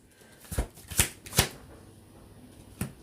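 A deck of playing cards being shuffled in four distinct bursts, each a quick riffling rush, with quiet gaps between them and no talking.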